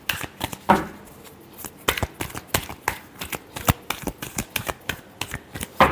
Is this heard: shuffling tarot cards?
yes